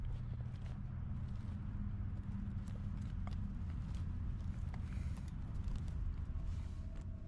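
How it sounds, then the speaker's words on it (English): Footsteps move around close outside a tent at night, a steady run of soft, irregular treads over a constant background rumble, with no voices. "the footsteps outside seem to get louder and louder"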